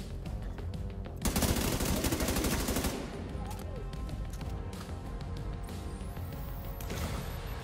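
Video game gunfire from The Division 2 rattles in rapid automatic bursts, loud and dense for a couple of seconds, then continues as scattered shots and action sounds.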